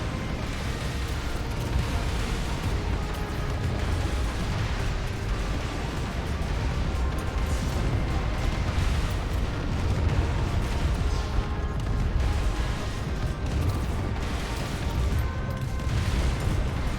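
Grenade launcher corvettes firing in the space strategy game AI War 2 make a dense, continuous wash of booms and muffled blasts, steady and loud throughout with no clear pauses between shots.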